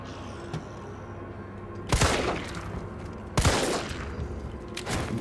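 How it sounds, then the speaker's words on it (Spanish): Two sharp gunshot blasts in the video game Resident Evil 3 demo, about a second and a half apart, each with a short ringing tail, over a steady low background hum. "Intento no fallar los disparos y ajustarlos a la cabeza"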